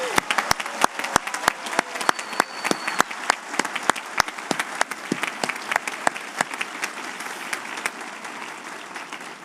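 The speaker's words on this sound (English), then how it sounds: "Let's give them a quick applause." At a Sunday commencement ceremony, a crowd gives sustained applause, a steady bed of clapping marked by a string of sharp, close individual claps throughout, fairly even in level.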